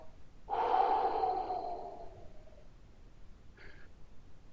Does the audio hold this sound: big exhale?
yes